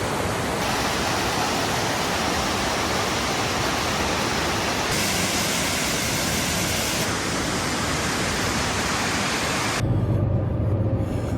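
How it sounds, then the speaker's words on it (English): A waterfall on a Pacific Northwest hike roars in a loud, steady rush of broadband white water, continuous and close throughout, with a brief shift in tone near the end. "So this is the first real waterfall."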